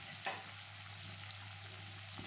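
Tomato rice ingredients fry in a pan with turmeric, a steady soft sizzle heard close and alone, with one brief stir or scrape near the start and a low constant hum underneath.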